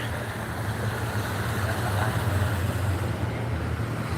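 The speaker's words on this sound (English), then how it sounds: "There goes a BRT bus, the Gold Line." Gold Line BRT bus passing by a creek bridge, a continuous low engine drone that swells slightly toward the middle and eases off, heard over ambient outdoor noise.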